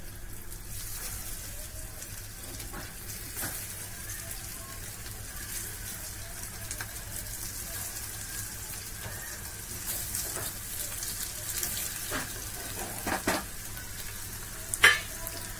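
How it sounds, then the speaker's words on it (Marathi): Sweet potato cutlets fry in oil in a pan over medium heat, giving a soft, steady sizzle and crackle with occasional pops and a sharper tap near the end. "मीडियम हीटवरच आपण हे फ्राय करून घेणार आहोत"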